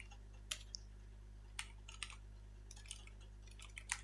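Someone types on a computer keyboard in scattered quick clicks and short bursts of keystrokes over a low steady hum.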